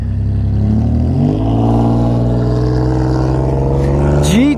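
A Kawasaki Concours motorcycle's 1.4-litre inline-four engine accelerating hard, a loud, close, smooth rising whine climbing steadily through the gears, with a brief pitch dip and renewed rise near the end.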